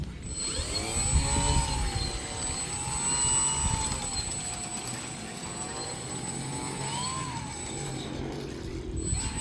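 Radio-controlled Piper model plane with a 120 cm wingspan taxiing, its propeller motor whining steadily and rising and falling in pitch as the throttle changes, close and continuous with no talk.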